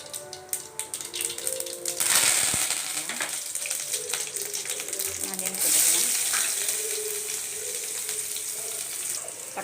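Mustard seeds frying in hot oil in a kadai, as the base for vada kuzhambu, give a steady close crackling sizzle that swells louder around the second and sixth seconds.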